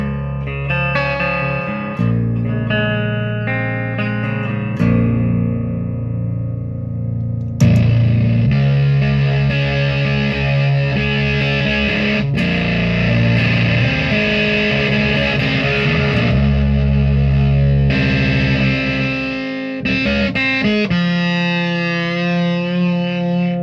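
A heavily distorted electric guitar plays through a Russian Triangle muff fuzz pedal, starting with thick, sustained chords, then growing into a dense, loud doom-style wall of fuzz with ringing notes and echo.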